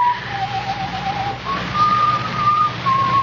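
A man whistles a simple tune alone, in short clear phrases with brief pauses between them, moderately close over a faint low hum.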